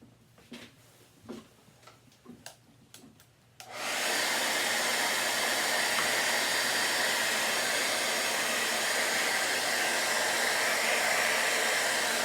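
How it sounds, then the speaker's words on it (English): A few sharp taps and clicks, then a hair dryer switches on and blows with a loud, steady whoosh until the end, drying water-based paint on a doormat. "another blow dryer."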